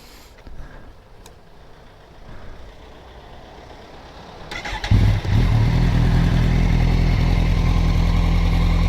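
A 2013 Kawasaki Z1000 motorcycle is started up: quiet handling noises, a brief starter whir, then the engine catches and settles into a loud, steady low idle close by.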